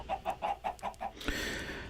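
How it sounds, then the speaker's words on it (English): Chickens on a Minecraft farm give about six evenly spaced clucks, close and clear, followed by a burst of broadband noise. "So I've got this little chicken farm going here."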